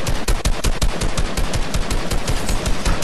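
A video game weapon fires rapid, close gunshots in an unbroken, evenly spaced stream of sharp cracks that lasts the whole stretch.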